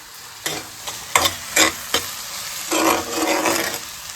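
Onion, tomato and green chilli frying together in a pan: a handful of sharp scraping stirs followed by a sustained close sizzle, with no voices.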